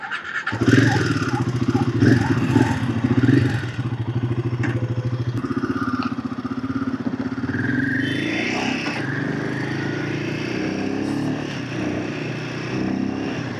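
A Royal Enfield Himalayan 450 with its liquid-cooled 451 cc single-cylinder engine pulls away on a test ride, its throaty exhaust rising and settling through gear changes, with some rattling and clatter, close and continuous.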